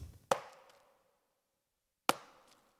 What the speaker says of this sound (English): And this little drum.